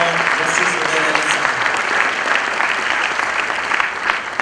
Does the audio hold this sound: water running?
no